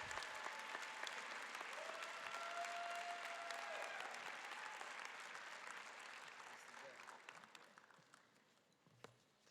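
Sustained applause fills a graduation ceremony at a community college, a dense clapping wash that holds steady for several seconds, then slowly thins and fades toward the end.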